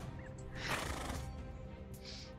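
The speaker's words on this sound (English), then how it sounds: "As combat breaks out, your horses are nervous, and the horse makes a horse noise." A horse neighs once as a sound effect, a fairly faint whinny under a steady background hum, with a brief light clatter afterward.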